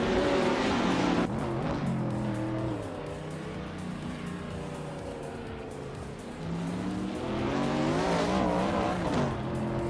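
Race cars roar past continuously with squealing tires and shifting engine whine through the turns, loud and sustained for several seconds.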